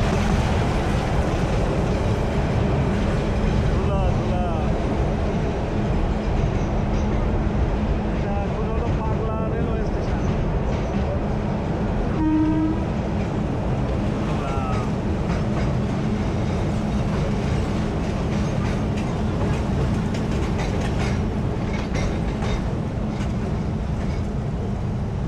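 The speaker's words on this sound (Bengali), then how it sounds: "আর এখানে কোনো রকম সিগন্যাল ছাড়া ট্রেন থামলো, আবার ট্রেন যাত্রাও শুরু করলো।" A Narayanganj–Dhaka commuter train in Bangladesh halts without a signal and then starts moving again, giving a steady, loud rumble of wheels and carriage noise throughout, with faint voices in the background.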